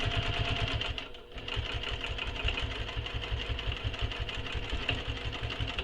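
A sewing machine runs continuously through a seam on a Perry the Happy Traveler bag, a close, steady rhythmic whirr with a fast stitching pulse and one brief dip early on, with no talking.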